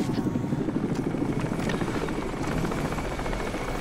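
Helicopter rotor thumping steadily with a dense engine whine in Crysis multiplayer combat, a constant close drone filling the scene with no voices.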